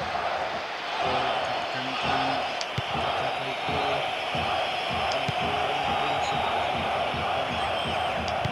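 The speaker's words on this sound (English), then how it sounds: "the crowd certainly approved. Just listen." A large stadium crowd in a PES football video game roars and chants continuously, a dense wall of voices with rhythmic rises, heard from a distance without a clear single speaker.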